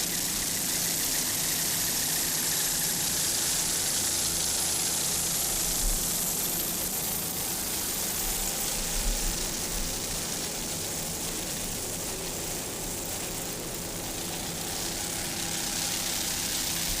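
A 45-foot Fountain powerboat with twin 1,500 horsepower inboard engines runs steadily, giving a continuous loud engine roar with broad wind-like hiss throughout and no talking.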